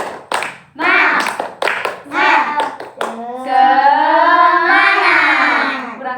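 A class of young schoolchildren does a spirited rhythmic group clap, sharp bursts of claps alternating with their shouted chant and a teacher's voice, loud and close.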